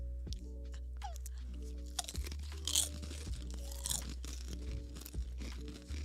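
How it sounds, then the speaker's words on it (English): A spicy chip from the One Chip Challenge crunches loudly between the teeth, with several sharp bites and steady close chewing throughout, no talking over it. "Make sure you chew it really well."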